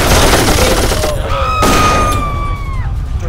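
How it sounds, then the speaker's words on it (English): Automated turret firing in Darkest of Days: dense, loud, continuous gunfire that keeps rattling under rising and falling tonal effects, with no clear speech. "That's an automated turret."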